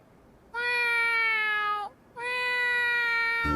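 Two long, sustained meows voiced by a person imitating a cat, each drawn out for over a second with a short pause between, close and clear.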